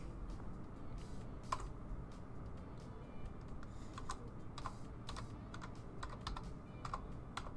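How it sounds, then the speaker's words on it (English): Typing on a computer keyboard with one hand during tech support work, producing irregular quiet key clicks, some in quick bunches and some spaced apart, over a low steady room hum. "One hand typing right now."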